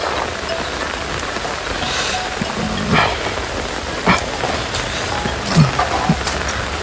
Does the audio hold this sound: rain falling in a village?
yes